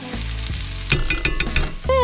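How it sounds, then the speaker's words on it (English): Hot oil crackles and sizzles steadily as a pancake shallow-fries in a pan, with a few sharper pops and spatters rising near the end. "I may have poured a tiny bit too much oil, but kind of shallow frying."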